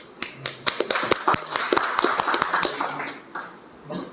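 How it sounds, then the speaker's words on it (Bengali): An audience at a regional Eid greeting gathering claps hands, a ragged burst of sharp slaps that thins out and fades toward the end. "শুধু ধন্যবাদ নয় হাতের তালি"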